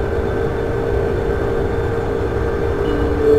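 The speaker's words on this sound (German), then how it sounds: "hier auf der linken Seite stößt jetzt die Berliner S-Bahn zu uns" A Berlin S-Bahn train passing in Train Simulator 2015, a steady loud rumble with a sustained mechanical hum and a slight swell near the end, no voices.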